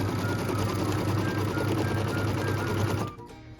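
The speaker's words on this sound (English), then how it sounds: "So this is stitching the tack down line for piece number 3." A sewing machine stitches a tack-down line on fabric for an apple-shaped trivet or coaster in a short, steady run of rapid, even whirring. The motor then stops abruptly.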